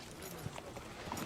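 Faint horse hooves clip-clop briefly in a medieval fantasy scene, a few soft irregular hoof strikes set back under a low background hum.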